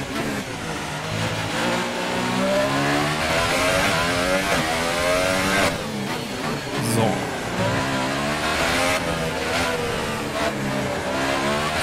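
A Formula 1 car in F1 2018 screams through corners, its engine revving up and down in rising and falling whines with gear shifts, loud and continuous throughout.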